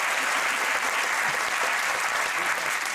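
Loud, sustained applause from a large TV studio audience at a comedy quiz show, steady clapping filling the whole stretch with no break.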